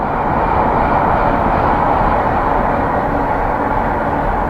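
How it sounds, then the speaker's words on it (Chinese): A high-speed train and a slower freight train pass together on neighbouring tracks beside a road, making a loud, steady, dense rumble that holds without a break for several seconds, with no voices. "高铁加火车叠加的一个声音"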